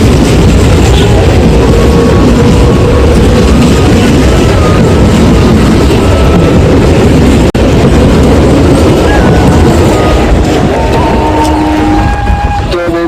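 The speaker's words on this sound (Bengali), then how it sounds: "ট্রেনটা চলেই গেল" A train passing and pulling away from a small station, a loud, continuous rumble and rattle that fills the whole stretch, with no voices over it.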